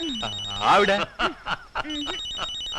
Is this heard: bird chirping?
no